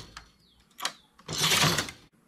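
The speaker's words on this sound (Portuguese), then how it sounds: "Três agulhas erguidas, enlaçar e tecer o cordonê." A domestic knitting machine carriage sweeps across to knit a cord edge on a strapless bustier, giving a short clack followed by a louder rushing, rattling pass up close, with no talking.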